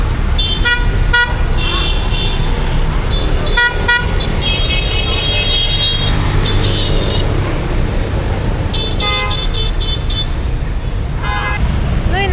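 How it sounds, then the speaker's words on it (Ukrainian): Heavy holiday road traffic in Da Nang, Vietnam: a loud, close, constant roar of motorbikes and cars, with repeated horn toots and honks coming in bursts throughout. "Тож ось такий рух, шалений рух на дорозі."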